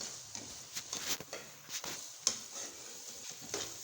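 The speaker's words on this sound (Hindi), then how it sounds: "मैं इसमें ये देसी घी डालूँगी।" Desi ghee sizzles in a hot pan as it is stirred, giving a soft, steady crackle with light scraping and a few clinks of a utensil against the metal, close by and fairly quiet.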